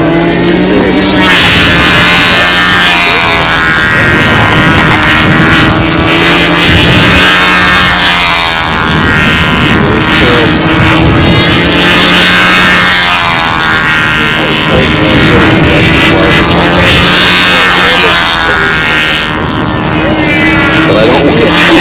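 A model airplane engine roars steadily and loudly during takeoff at the Walker Cup fly-off at the 2004 NATS, a continuous droning hum with wind buffeting throughout.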